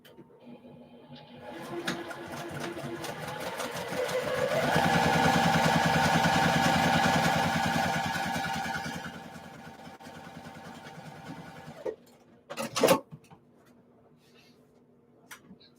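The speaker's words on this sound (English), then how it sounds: "And sew the other side." A sewing machine stitching fabric runs as a steady mechanical whir that speeds up, holds at its loudest, then slows and stops, followed by a couple of sharp clicks.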